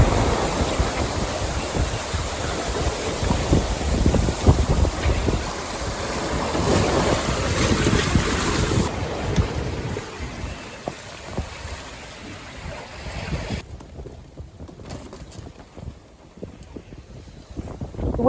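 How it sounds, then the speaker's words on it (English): A sailboat under way at sea at night, bound for Ensenada, carries steady wind and rushing water noise that fades over time, with no talking. "The winds kept up for the remainder of the night, allowing us to make good time into Ensenada."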